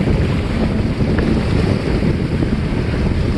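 Strong wind buffets the microphone aboard a 1986 Catalina 22 sailboat on CJ Strike Reservoir, a steady loud roar with water chop beneath, continuous and close, with no talking.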